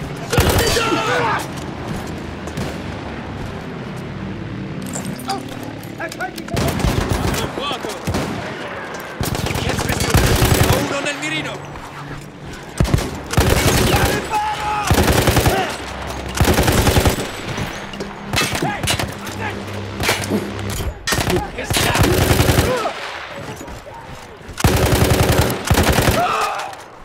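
Heavy machine gun fire in the World War I shooter Battlefield 1, repeated long loud bursts and sustained volleys close by, broken by short pauses, with battle noise and shouted voices in between.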